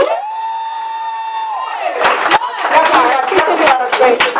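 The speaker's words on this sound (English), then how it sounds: "One more round of applause." An audience at a fashion event thank-you address breaks into cheering and clapping with whoops after a sustained tone fades, the noise building into loud, dense applause that carries to the end.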